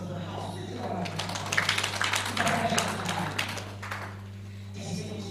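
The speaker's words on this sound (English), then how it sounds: "Please give a round of applause." An audience at a University of Lagos Business School event breaking into applause, a moderate swell of clapping that builds and then fades over a steady background hum.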